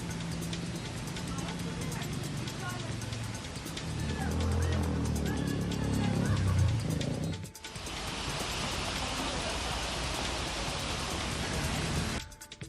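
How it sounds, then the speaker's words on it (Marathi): Heavy evening rain pours onto a flooded road in Pune's Yerwada and Kalyani Nagar area, a dense, steady hiss that grows stronger in the second half, with voices and traffic rumble in the first part. "काल संध्याकाळी झालेल्या पावसानं रस्त्याची नदी झाली"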